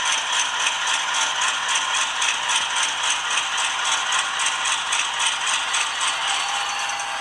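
A ScaleTrains HO scale BNSF Dash 9-44CW model locomotive gives off a steady, high-pitched brake squeal with a fast, even metallic pulsing rattle throughout, close and continuous with no talking.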